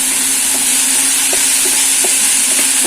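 Onions and ginger-garlic paste sautéing in a pan for a fried cauliflower masala, giving a steady close hiss and sizzle with faint stirring clicks, and no voices.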